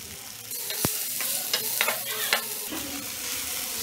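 Chopped tomatoes sizzle and get stirred in a pan for a chutney, continuous close frying hiss broken by several sharp spoon scrapes and clinks.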